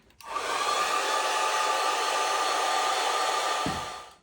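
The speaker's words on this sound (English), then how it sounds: "So I might hit this with the hairdryer." Hair dryer blowing on wet watercolor paint: a loud, steady whooshing whir that starts abruptly, holds for several seconds, then clicks off and winds down.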